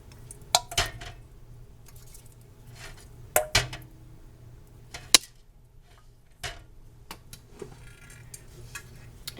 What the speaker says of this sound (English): Add our jars.